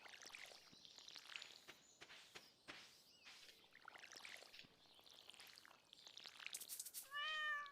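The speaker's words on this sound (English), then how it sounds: "Oh my god, cat." A cat meows in the Stardew Valley farming game, several soft mews over light game sound effects and footsteps, ending with a louder, clearer meow.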